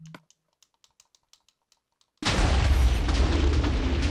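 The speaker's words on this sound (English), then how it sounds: "I come to here, and there's like an explosion." A loud Minecraft explosion erupts suddenly after a run of light, evenly spaced keyboard clicks, then sustains as a heavy rumbling roar to the end.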